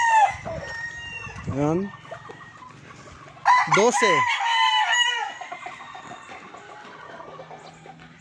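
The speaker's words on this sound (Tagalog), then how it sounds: "So ito yung manok lahat guys." Game fowl roosters (sweaters and broodstags) in a farm yard: two crows ring out, one short and one long and loud, over steady background clucking, while someone speaks briefly nearby.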